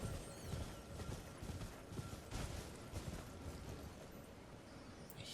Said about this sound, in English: Guide me, silver ghost horse.